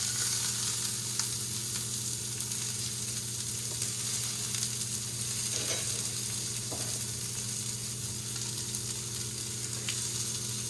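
Vegetables left untouched to caramelise in a hot pan for a sauté bowl give off a steady, even sizzle with a few faint pops, close by and with no talking.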